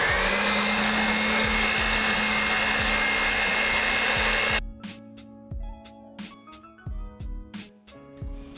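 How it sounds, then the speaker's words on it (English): Electric hand mixer whipping tiramisu cream in a bowl, a loud steady motor whir that stops midway and gives way to a rhythmic clatter of beaters against the bowl. "But you have to mix it fast. No, with the mixer."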